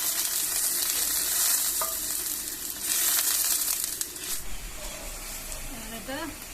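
Fish dropped into hot oil with onion and chili, frying with a loud, steady sizzle and hiss up close, shifting as it is stirred, with a voice briefly audible near the end.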